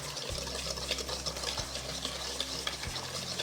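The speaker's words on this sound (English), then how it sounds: "I'm gonna dump my sugar and my spices, and I'm gonna give these guys a stir." Sugar and spices for a homemade pumpkin pie stirred in a bowl, a soft continuous scraping swish with a few low knocks, close and alone without talk.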